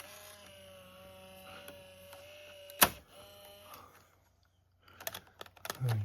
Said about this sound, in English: Let's just put a tape in there.